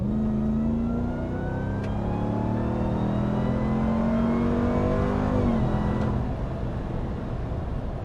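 A 2022 Ram TRX pickup's engine revs while driving, a loud, close, deep growl rising steadily in pitch, dropping briefly, then holding a strong drone.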